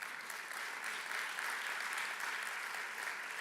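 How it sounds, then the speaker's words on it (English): A conference audience at the Invest Jamaica 2022 Business Conference gives a round of applause. The clapping is a dense, even, continuous patter heard from a distance, fairly soft and unbroken by voices. "Round of applause."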